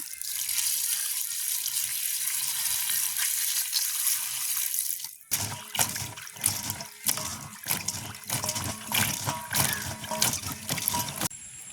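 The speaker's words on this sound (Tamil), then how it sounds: "நாங்கள் இப்போ பூஞ்சிக்காய் நல்லபடியாக கழுவி போட்டு வட்டி எடுப்போம்." Vegetables washed by hand in water in a village setting: a steady stream of water at first, then close, uneven splashes and sloshes as the pieces are rubbed and moved around.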